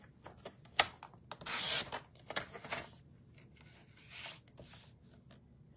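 Paper trimmer slicing 12x12 cardstock during card making, heard as a few brief scraping, rasping cuts with a longer sliding stroke in the middle, close up and fairly quiet with no talking.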